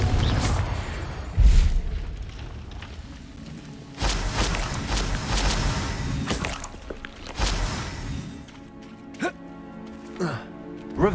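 The Confringo fire-blast spell in Hogwarts Legacy sets off several booming explosions, each followed by crashing and shattering debris, with a rumbling tail between blasts and occasional talk in the background.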